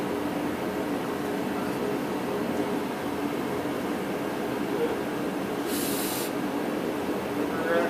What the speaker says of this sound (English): We're going to shower the carb cleaner.